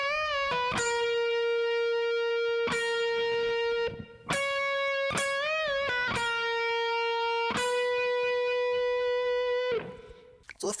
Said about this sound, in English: there's this cool lead guitar part that comes in and it sounds kind of like this.